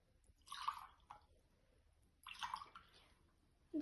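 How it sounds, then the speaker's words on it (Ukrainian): Water is poured from a container into glasses in two separate short pours, each a near, bright splashing trickle, with quiet between them and a soft knock at the end. "Наливаємо воду в кожну склянку, бажану порівну."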